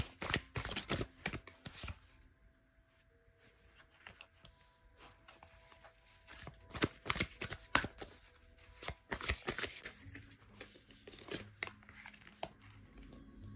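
A deck of Egyptian tarot cards being handled and drawn: quiet, close shuffling and sharp flicking snaps that come in uneven clusters, with softer rustling in between and no talking.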